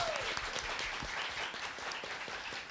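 A studio audience on a Women's Day radio-style program applauds for a woman's family, a continuous, even bed of many hands clapping, moderately loud throughout.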